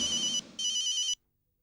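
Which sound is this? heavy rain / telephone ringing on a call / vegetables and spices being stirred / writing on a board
telephone ringing on a call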